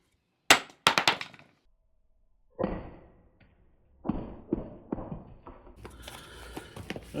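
A heavy lump hammer strikes a porcelain tile several times, sharp loud knocks separated by pauses, followed by brushing and scraping of debris.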